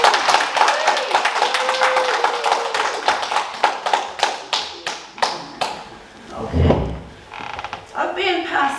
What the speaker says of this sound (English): can we get a huge warm round of applause for our poet for the evening